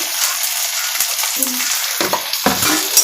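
Chopped green chilli with turmeric, chilli powder and black pepper powder stirred in hot oil, giving a steady close sizzle broken by several scraping stirs of a spoon against the pan.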